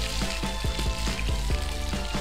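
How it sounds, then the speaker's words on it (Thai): Food stir-frying in the Toca Kitchen video game gives a steady, dense sizzle with quick crackling pops running throughout, close and even in loudness, with no voices. "ไปปรุงไปผัดก่อนนะ"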